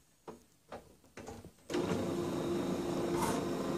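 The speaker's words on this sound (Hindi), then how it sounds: "तो ये प्रिंटर हमारा ऑन हो गया।" An HP LaserJet P2014 printer powers on with a few short mechanical clicks and whirs, then settles into a steady motor hum, heard up close and fairly quiet.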